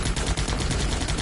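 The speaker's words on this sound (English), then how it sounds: "You have machine gun fire at them." Dense, continuous burst of machine gun fire from the Battle Ages strategy video game, loud and rapid with no pauses across the short stretch.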